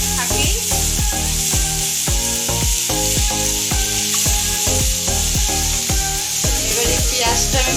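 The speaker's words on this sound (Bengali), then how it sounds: "এবারে পেঁয়াজটা আমি ভালো করে একটু ভেজে নেব" Onions frying in a pan for a prawn curry give a steady sizzling hiss, partly masked by rhythmic background music with regular beats throughout.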